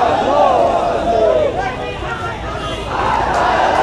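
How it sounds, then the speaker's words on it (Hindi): Angry state electricity board employees protesting privatization at a district magistrate's office in Lucknow chant slogans together, a loud, continuous crowd roar of rising and falling shouts from a large gathering outdoors. "सरकार विरोध नारे लगाए जा रहे हैं"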